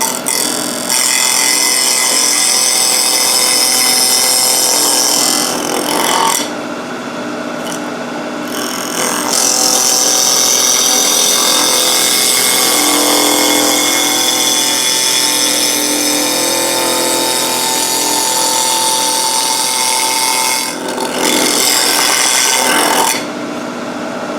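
A safety planer chucked in a drill press spinning at 2,000 to 3,000 RPM cuts steadily across wood held against a small fence, a loud continuous whirring rasp with brief pauses near six and twenty-one seconds.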